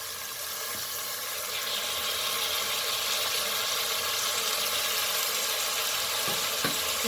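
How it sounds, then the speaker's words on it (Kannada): Chopped tomato fries in a pan with a steady, loud hiss and crackle that continues throughout, close up with no talking. "ಸ್ವಲ್ಪ ಫ್ರೈ ಮಾಡ್ಕೊಳ್ಳೋಣ."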